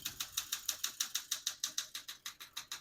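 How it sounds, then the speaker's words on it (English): A 1968 Olympia SM9 vintage portable typewriter being typed on, a close, steady run of about seventeen crisp keystrokes in an even, quick rhythm, with no voices. "As you can see, all the keys type nice and none of them skip or stick."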